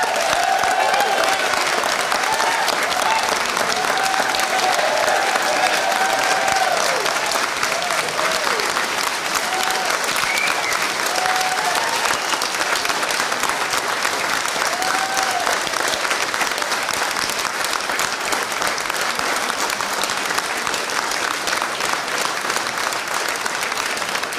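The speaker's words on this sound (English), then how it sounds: "So give him a big round of applause." Sustained audience applause for playwright Jim Keane after a stage play, steady dense clapping throughout with crowd murmur and a few whoops and voices riding on top.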